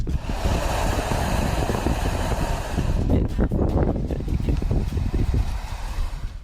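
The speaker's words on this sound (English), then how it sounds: "wind rushing through some kind of construction tunnel for a pipe or something" Strong wind roars steadily through a construction tunnel for a pipe, a loud broadband rush with gusty buffeting throughout and a brief dip in the middle, with no voices.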